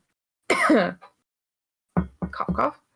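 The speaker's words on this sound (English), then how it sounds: "Cough, cough." A voice coughs or clears its throat once, close and fairly loud, followed after a pause by a few short, clipped vocal bursts.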